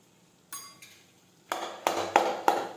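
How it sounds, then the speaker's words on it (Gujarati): A spoon stirs okra curry with turmeric, cumin, crushed garlic chutney and salt in a pan, giving a few scraping, clattering strokes that grow busier and louder toward the end, with no voices. "હવે આ રીતે આપણે ફેરવી લઈશું."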